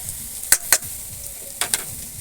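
Chopped onions frying in a pan for fish curry, a steady soft sizzle with a few sharp scraping stirs of a utensil against the pan, close and clear.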